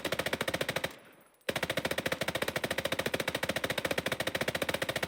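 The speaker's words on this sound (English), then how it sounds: "Now, the PPSH-41 with the drum has a 71 round magazine, and its rate of fire, let's reload it, is 981 rounds per minute." A PPSH-41 submachine gun with a drum magazine fires in the Call To Arms video game: a very rapid, evenly spaced stream of loud shots, cut by one short pause before the burst resumes.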